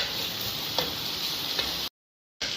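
Chopped onion, garlic and ginger fry in a hot pan and get stirred together for a masala egg dish. The sizzle is a steady, close hiss with a few light scraping ticks, and it cuts out briefly near the end.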